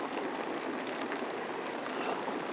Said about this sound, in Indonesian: Tapi ini hujan